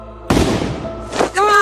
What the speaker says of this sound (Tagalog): Ang tunog ng putok ng baril ay umalingaw-ngaw sa buong bahay.